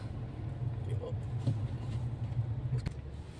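Car idling and creeping in slow, stop-and-go road-trip traffic, a steady low engine rumble with faint passing vehicles and a voice talking over it.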